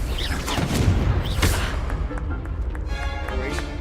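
Explosive spell blasts in the Hogwarts Legacy game, a couple of heavy booming bursts in the first half-second to second and a half, then a fading rumble and ringing tail over game ambience.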